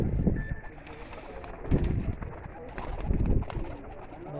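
Pigeons coo on a rooftop in a few soft, low bursts, with faint outdoor noise and a brief voice in the background.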